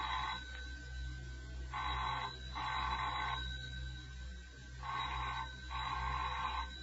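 An old telephone bell rings in paired bursts, twice, over a steady low hum in a house. No one speaks.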